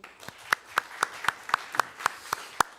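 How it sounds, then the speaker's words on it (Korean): A handful of sharp, evenly spaced claps, about ten in a steady rhythm, fairly faint and alone, welcome a National Assembly member to the panel at a Korean election-law reform debate forum. "큰 박수 환영해 주십시오"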